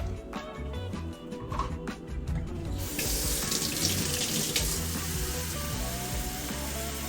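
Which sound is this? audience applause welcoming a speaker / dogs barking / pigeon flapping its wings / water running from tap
water running from tap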